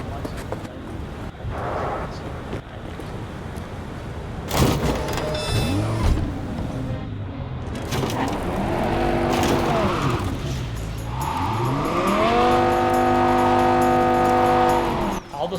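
A sports car drives in the video game Cyberpunk 2077, its engine revving and rising in pitch through gear changes, with a sharp impact and rising whine near the middle, while a person talks over it.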